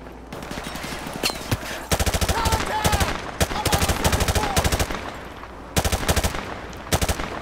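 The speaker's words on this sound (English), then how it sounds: "you hear the reverberation of the gunshots?" Rapid automatic gunfire in Modern Warfare Remastered, bursts of loud, reverberant shots repeating throughout with short pauses, close and dense, with faint talk underneath.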